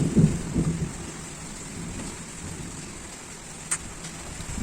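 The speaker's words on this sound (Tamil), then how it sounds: "செமையாக இடி இடிச்சிட்டு செமையாக மழை பெஞ்சதுங்க" Heavy rain pours steadily on a village, hissing evenly throughout, while a low rumble of thunder rolls at the start and a brief sharp crack comes near the end.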